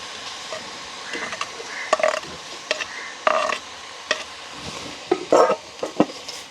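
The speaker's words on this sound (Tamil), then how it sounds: "அதை அப்படியே ஒருக்கா கலந்து விடுவோம்" A spoon or spatula stirs fried onion, carrot and potato in a pan for a village vegetable feast, with repeated scraping and clattering strokes at an irregular rhythm over a soft background sizzle, close and fairly loud.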